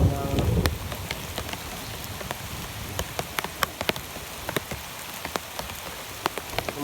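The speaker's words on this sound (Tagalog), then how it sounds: "Umulan" Steady rain falls, with scattered louder drops ticking on a hard surface over a continuous wash; a heavier burst in the first second eases into an even patter.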